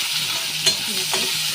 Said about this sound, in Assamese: পিঁয়াজটো ভাজি লওঁ।